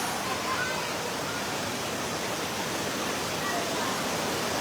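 Swift floodwater rushing across a public road during a flood in Subulussalam, Aceh, a steady broadband roar that stays loud and even throughout without a break.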